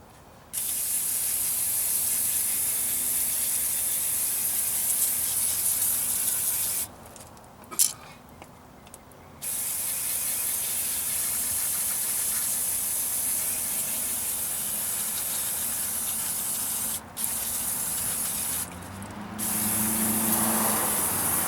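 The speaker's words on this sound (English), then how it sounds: "we got brake cleaner spray here" Brake cleaner is sprayed onto the rear brakes of a 2006 Chevy truck in a loud, continuous hiss that runs in long bursts, with brief pauses and a clink between them.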